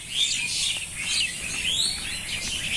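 Birds chirp in a fruit orchard damaged by rain and pecking: a continuous, fairly faint chorus of high, quick tweets over a soft background wash, with no voices.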